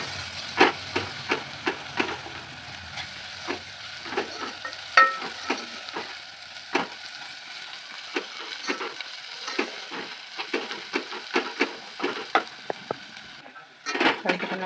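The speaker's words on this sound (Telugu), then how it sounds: "కలుపుకున్న తర్వాత అల్లం వెల్లిగడ్డ వాసన పోయేంత వరకు కలుపుకోవాలి." Ginger-garlic paste with turmeric is stirred in a frying pan: repeated sharp clicks and scrapes of a utensil against the pan over a faint, low sizzle, close up and without speech.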